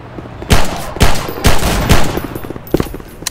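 Gunfire in the Half-Life 2 roleplay video game: four loud evenly spaced shots ring out in quick succession, followed by a couple of quieter shots a moment later.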